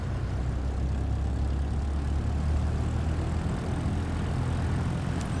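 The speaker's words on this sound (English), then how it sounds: "gently increase throttle to get the aircraft moving" A propeller aircraft engine in Microsoft Flight Simulator 2024 throttling up gently during taxi, a steady, loud low drone that holds evenly throughout.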